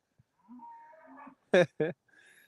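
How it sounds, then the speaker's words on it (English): A cow on a farm in the early morning gives two loud, close moos after a quieter low lowing, with faint bird chirps in the background and no talking. "What kind of lazy old pooping cow are you?"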